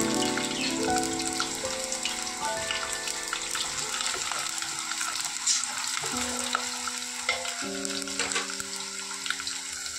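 Eggplant pakodi curry fries in a pan, giving a continuous crackling sizzle with scattered pops that stays steady throughout, set against a backdrop of sustained musical tones.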